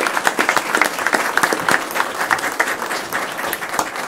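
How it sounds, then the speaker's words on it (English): Applause for poll workers at a county Commissioners Court meeting, a steady clapping crowd filling the room at even loudness with no speech over it. "So another round of applause for our poll workers"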